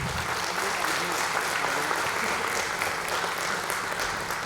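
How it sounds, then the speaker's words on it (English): Sustained applause from an audience at a workplace disability inclusion event, dense and steady throughout, close and fairly loud, with no break in the clapping. "Should we clap for both of them?"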